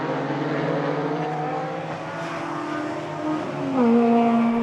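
Race cars, including a Porsche and a Ginetta, run at Assen with steady, droning engine noise, and one engine rises in pitch as it accelerates near the end. No one speaks.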